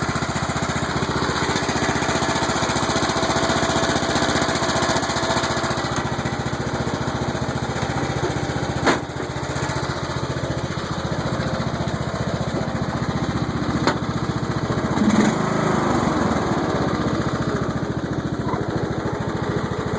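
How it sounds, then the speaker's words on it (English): Troy-Bilt racing mower engine with hydrostatic transmission runs steadily after a rebuild, a constant droning engine note close by with a couple of brief knocks, and no talking. "This is my racing mower engine."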